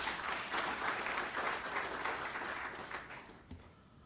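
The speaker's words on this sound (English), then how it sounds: "Please clap your hands for yourselves." A room full of conference delegates applauds, steady dense clapping that fades away toward the end.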